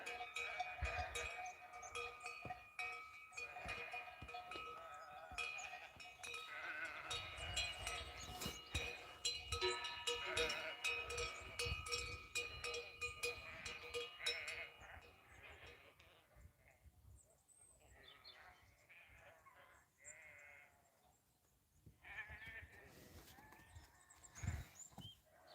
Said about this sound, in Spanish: las ovejas corriendo para acá